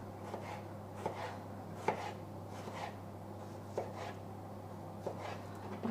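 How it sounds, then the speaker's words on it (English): Knife slicing through washed pears on a cutting board, a series of crisp cuts spaced out at an irregular pace, close and fairly quiet over a steady low background hum. "I'm just going to slice them up into little slices."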